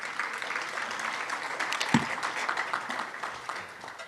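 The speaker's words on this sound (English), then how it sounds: "Please give yourself a round of applause for being here today" Audience applause at a women's charity luncheon, a continuous, moderately loud patter of many hands clapping that stays even throughout and eases off slightly toward the end.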